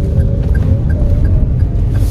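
Daihatsu Rocky with a 1000cc three-cylinder turbo engine accelerating on a test drive, a steady, loud low engine drone and road rumble inside the cabin with no talk.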